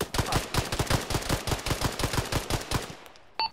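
Rapid automatic gunfire in a military video game, a steady fast burst of sharp loud shots that stops abruptly near the end, followed by a brief faint click.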